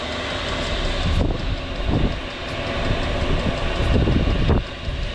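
A diesel heater pump runs inside an RV with a loud, steady broadband rumble and rhythmic ticking pulses, close by and without talk.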